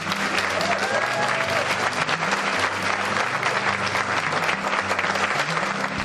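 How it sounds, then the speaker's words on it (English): A big round of audience applause at a charity fundraiser event in Holliston, sustained and loud throughout, with a low hum of background music beneath the clapping. "can we please get another big round of applause for her?"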